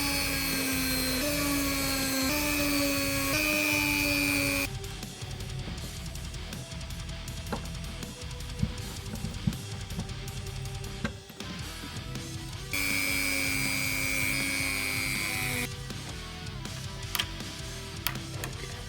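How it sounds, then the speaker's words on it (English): A power drill with a bigger bit bores holes into a mid-century wooden cabinet for door stoppers, whining loudly in long steady runs with pitch shifts, broken by a quieter stretch of handling and tapping in between. "so I had to use a bigger drill bit."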